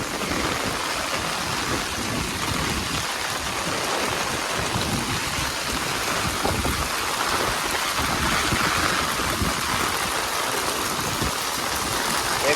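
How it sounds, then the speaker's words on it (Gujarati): Heavy downpour in Keshod's Ghed area, with rain hammering steadily alongside flooded, flowing runoff water; a dense, loud, unbroken roar close by, with no voices. "વરસાદ તો એવું આવે છે કે આમાં પાણી માતું નથી"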